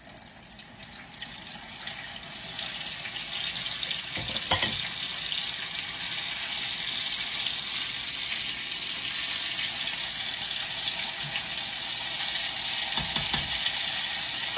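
Fried peach pies crackling in very hot grease, a dense, loud, continuous hiss and sputter that swells and holds steady throughout, with a few sharper pops.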